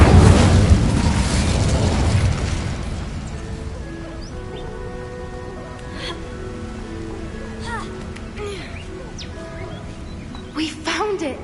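Incendio fire spell cast in the video game Hogwarts Legacy: a loud, close roaring blast bursts out at once and fades over a few seconds, then gives way to a soft, sustained shimmering tone with a brief small pop near the end.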